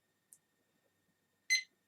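A timer starting with a short high electronic beep, preceded by a fainter earlier blip, heard alone against near silence.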